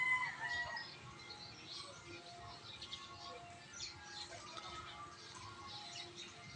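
At sunrise a rooster crows faintly in the distance while chickens cluck and small birds chatter, a soft outdoor dawn chorus with no talking.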